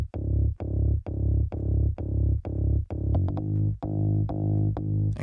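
A punchy Serum synth bass patch hits in a steady run of loud, evenly spaced notes with sharp attacks, then shifts to denser, faster retriggered notes in the last couple of seconds, with no voice over it.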